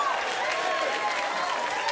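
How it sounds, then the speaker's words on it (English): A late-night studio audience keeps applauding and cheering, a steady roar of clapping with a few voices rising over it. "And let your applause and your cheering and your genuine joy die away."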